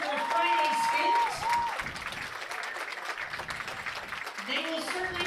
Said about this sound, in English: let's give our professionals once again a nice round of applause for joining us tonight for Friday Skins